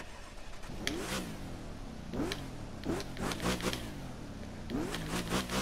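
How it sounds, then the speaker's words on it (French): An Audi RS5 engine in The Crew 2 racing game revs up repeatedly, rising sweeps with gear-change breaks climbing toward about 7000 rpm, loud and continuous with no talking. "Ouais, ça prend bien les tours quand même"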